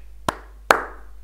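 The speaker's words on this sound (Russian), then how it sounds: "Аплодисменты" Two sharp, separate hand claps ring out about half a second apart in a quiet space, each with a short echoing tail.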